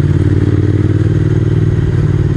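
A Triumph Speed Twin motorcycle labours up tight alpine hairpins in first gear toward the Plateau des Glières via Entremont, its engine a loud, close, steady low thrum with a rhythmic pulse throughout.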